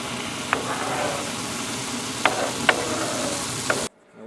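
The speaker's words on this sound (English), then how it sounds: "Have you ever heard lasagna that sounds like this?" Lasagna and shrimp cooking at a campsite give a steady close sizzle with occasional sharp stirring clinks, then it cuts off abruptly into quiet.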